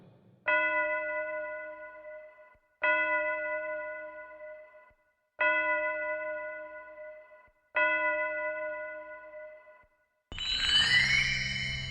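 Clock chimes strike the hour in a slow, regular series of four ringing tones, each decaying into silence before the next, followed by a swelling shimmer of bell-like sound at the end.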